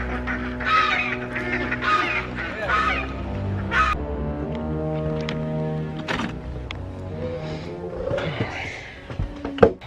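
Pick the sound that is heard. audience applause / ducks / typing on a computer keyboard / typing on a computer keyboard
ducks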